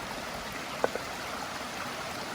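Stream water flowing steadily beside a trail shelter on the Appalachian Trail, a constant broad rushing wash with one or two brief drip-like plinks, close and even throughout.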